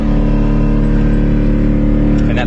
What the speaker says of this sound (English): that pump is coming on to replenish the vacuum of the brakes because they're power assisted